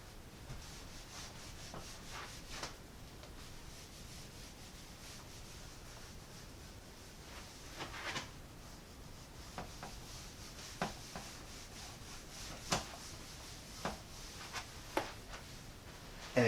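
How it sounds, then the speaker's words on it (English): Eraser scrubbing across a board to wipe it clean, a faint, continuous rubbing with soft scratchy strokes and occasional light taps, no voice. "I'm going to erase pretty much everything so that I have room to do this"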